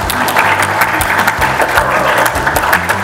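A political campaign audience in Lamongan bursts into loud, sustained clapping, a dense crowd of hands applauding steadily for several seconds.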